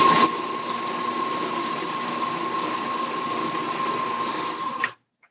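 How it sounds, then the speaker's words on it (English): A food processor grinding shredded coconut, walnuts and hemp hearts gives a steady, close motor whir with a constant tonal hum. It starts with a louder burst and stops abruptly after about five seconds. "I'm not going to grind it too fine because I want those coconut shreds to be left kind of whole"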